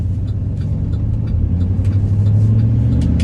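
A 2018 GMC Savana U-Haul moving truck with a 6-liter V8 drives along with a steady low engine rumble and road noise, heard from inside the cab. The engine swells slightly as it accelerates and no one talks.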